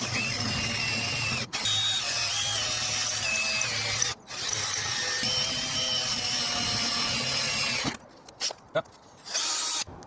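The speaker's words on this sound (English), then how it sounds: "So I've drilled the 3 basic holes in the gearbox base plate in roughly the right position." A power drill bores holes through a gearbox base plate for a Morris Minor wiper motor conversion, running loud and steady with two brief pauses, then a few short stop-start bursts near the end.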